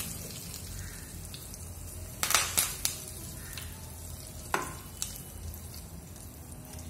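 Curry leaves sizzle in hot oil while banana stem kootu is cooked: a steady, quiet frying hiss broken by a few sharp crackling bursts midway and near the end.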